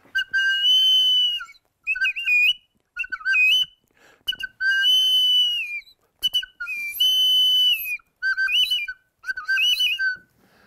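A handmade whistle cut from a hollow bird bone with a notched edge gives shrill, bird-like warbling calls in several short bursts with brief pauses, played alone and close.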